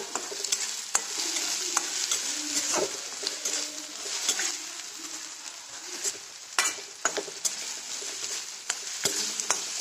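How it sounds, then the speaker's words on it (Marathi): Ground ripe pink guava chutney mixture roasts in a kadhai, giving a steady close sizzle broken by repeated scraping and tapping clicks from the stirring spatula, with no voices. "आता हे चांगलं भाजून घेते."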